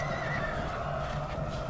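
A horse whinnies loudly and continuously in a dense, busy soundscape, its high wavering call sustained over low rumbling and faint hoof clatter.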